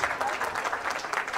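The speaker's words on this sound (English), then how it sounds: "Round of applause for both the team and the fans in appreciation for a wonderful tournament." Crowd applause at a girls' U18/U17 club soccer tournament, Newfoundland and Labrador against Nova Scotia; steady clapping from many spectators, moderately distant, with a faint voice underneath.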